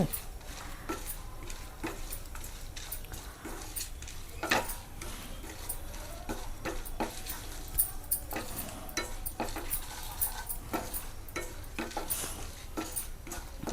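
Cashew nuts frying in ghee in a pan while preparing pongal, a steady soft sizzle with repeated scraping and stirring clicks from a spatula, close and continuous.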